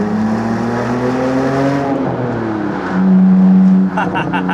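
A BMW 125i E88 with the N52 engine pulls hard in second gear through a tunnel, its engine note climbing steadily in pitch, loud and close from inside the cabin, before a brief shift and a further rising whine.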